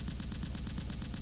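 Tower turret in the Space Engineers video game firing a fast, steady stream of heavy shots, loud and close, each report blending into a continuous rapid rattle with no voices.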